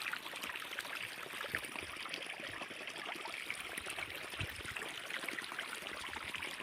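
Irrigation water running slowly through a wheat field, a steady, even trickling rush that stays continuous and moderately close with no voices over it.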